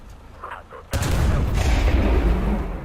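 Loud bursting flak shells with timed or proximity fuses in War Thunder, a sharp blast followed by rumbling crackling explosions, preceded by brief faint voices.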